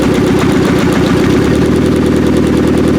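A turbocharged B18 engine, first start-up after a cam install, runs loud and close with a steady, rumbling idle and rapid firing pulses throughout.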